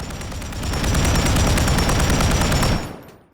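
A PKP Pecheneg Bullpup machine gun with a compensator in Call of Duty Modern Warfare III fires one sustained, rapid automatic burst, loud and close, with even rhythmic shots for nearly three seconds before cutting off.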